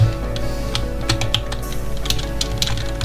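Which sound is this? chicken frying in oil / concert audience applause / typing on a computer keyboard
typing on a computer keyboard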